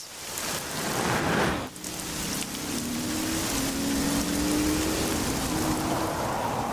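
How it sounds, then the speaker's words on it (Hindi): Heavy rain pours down in a dense, continuous hiss, loud and close, with a low engine hum rising underneath partway through. "एक तो आज बारिश भी बहुत तेज है"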